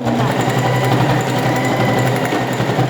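A sewing machine stitching a school pencil case, a loud, fast, steady mechanical whirring and clatter heard up close, running continuously with no pause.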